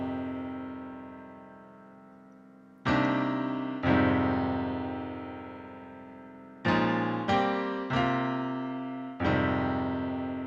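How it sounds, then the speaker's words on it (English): Steinway stock piano in Logic playing simple sustained chords, a handful of struck chords that ring out and decay slowly, soft and unaccompanied with no voices. "Some simple kind of chords. I just played them on the piano,"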